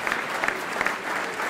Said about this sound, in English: Give them a round of applause again.